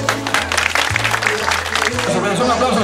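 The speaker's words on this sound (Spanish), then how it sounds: "Un aplauso, señor bonito aplauso" Applause from a crowd at a road and sidewalk inauguration in San Joaquín, Ica, Peru, steady clapping throughout with a repeating low musical or amplified tone underneath and people talking over it.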